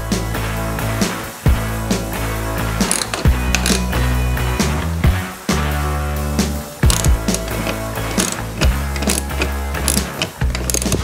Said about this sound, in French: Je vais pouvoir avoir une clé en dessous, une clé au-dessus et clac clac clac, ça va être rapide.